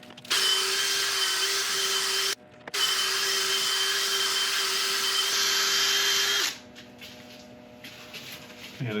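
Wood burl piece being buffed with abrasive paste on a lathe, a loud steady motor whine with a brief break near the start, dropping to a quieter hum for the last couple of seconds.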